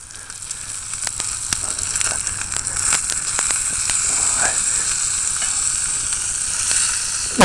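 Bacon frying in a pan over a campfire outdoors, a steady crackling sizzle with frequent sharp pops and spits, close and fairly loud, building slightly toward the end.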